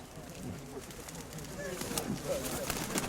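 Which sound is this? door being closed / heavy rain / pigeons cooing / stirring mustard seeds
pigeons cooing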